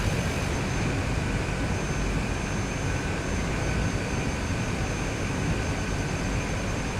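Small bush plane flying over Bhutan between Yongphulla and Gelephu, a loud, constant propeller and engine drone filling the cabin with no voices.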